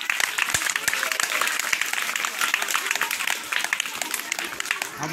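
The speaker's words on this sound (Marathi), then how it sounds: "टाळ्या वाजवा बाबा एकदम जोरात." Audience clapping loudly at a Guru Purnima school felicitation, dense rapid hand claps from a close crowd continuing throughout with some voices mixed in.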